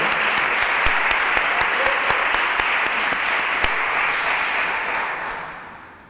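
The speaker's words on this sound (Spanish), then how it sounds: "vamos a darle un aplauso" A crowd applauds steadily for several seconds, with sharp individual claps standing out, then the clapping fades toward the end.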